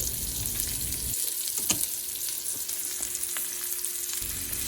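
Peppers sizzle and crackle steadily in a hot frying pan, with a few sharp spatula clinks scraping across the surface and a low background hum underneath.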